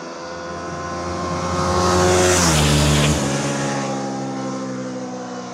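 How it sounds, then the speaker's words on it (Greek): A Ducati Multistrada V2 S engine builds from a steady drone to a loud peak and then eases back, a rising and falling tone passing close by with no voices. "ο ήχος όταν ανοίγουν οι πεταλούδες θερμά"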